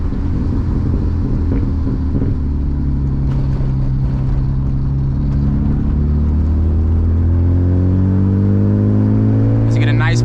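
A manual BMW E36 328i with a loud exhaust pulls hard on a night drive, its engine note rising steadily in pitch through the rev range, a loud, close rumbling drone building to a high wail at the end.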